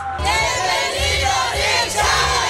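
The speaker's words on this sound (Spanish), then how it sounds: "La ovación no se detuvo durante el arribo de Carapaz" A large crowd welcoming the champion Carapaz in Ecuador roars and cheers continuously, a loud sustained wall of voices with shouts rising and falling throughout.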